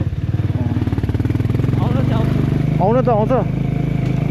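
A motorcycle grinding up a rocky, stony mountain trail toward Ama Yangri in monsoon, engine chugging steadily up close while someone speaks briefly over it.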